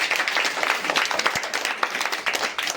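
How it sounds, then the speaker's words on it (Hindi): Audience applause for a child at a school riddle and tongue-twister recitation, a dense steady burst of many hands clapping close by, continuing evenly throughout with no talk over it. "ताली बजाओ भाई इनके लिए।"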